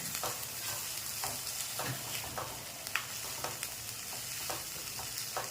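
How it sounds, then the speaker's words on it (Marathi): Chickpeas stir-fried in a pan for a quick chickpea usal, with a steady sizzle and repeated scraping stirs of a spoon against the pan, close and moderately loud with no talking. "त्यानंतर आपल्याला हे चणे टाकायचे यामध्ये चांगली परतून घ्यायची"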